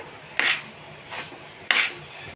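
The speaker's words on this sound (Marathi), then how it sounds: "गूळ टाकल्यानंतर पुरण सारखं ढवळत राहायचं आहे आपल्याला" A spoon stirs thick puran of cooked dal and jaggery in a kadhai, giving two or three sharp metallic scrapes against the pan over a quiet background, with no talking.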